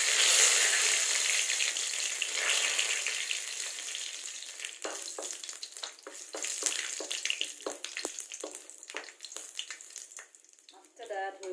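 Whole bay leaf and cinnamon hit hot mustard oil in a pan, giving a loud, steady frying sizzle that crackles and sputters unevenly toward the end, with no talking.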